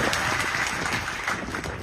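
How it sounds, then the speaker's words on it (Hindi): A large crowd at a by-election political rally in Amarwara, Madhya Pradesh claps in a dense, loud, continuous burst of applause with no talking. "ताली बजा के बताओ, लड़ रहे हो कि नहीं?"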